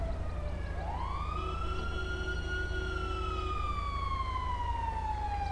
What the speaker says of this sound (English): let's get my ambulance. This best car is gonna be ambulance.